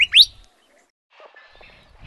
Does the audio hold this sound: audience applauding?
no